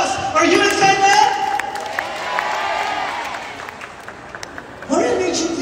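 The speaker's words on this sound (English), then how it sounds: "let us give UUU a round of applause" Audience applause and cheering for the UUU Orchestra Project at its final concert, a loud dense crowd clapping that dips in the middle and swells again near the end, with faint voices mixed in.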